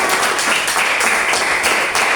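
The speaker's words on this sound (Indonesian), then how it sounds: "beri tepuk tangan buat kita semua" A classroom audience applauds together, producing a loud, dense and steady patter of many hands that surges slightly in waves for a couple of seconds with no talking over it.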